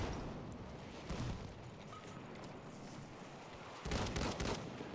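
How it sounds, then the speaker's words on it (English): Mortar fire rumbles through a Battlefield 1 match, a dense wash of distant blasts and gunfire with a stronger burst near the end. "That's mortar"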